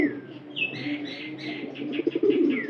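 Pigeons kept at home, some of them laying hens, coo and chirp steadily at close range, with a few wing flaps among the calls and no talking.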